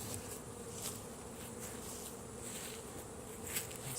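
A honeybee swarm just shaken out of a tree fills the air with a steady, dense buzzing of many insects, continuous and fairly close throughout, with no talking.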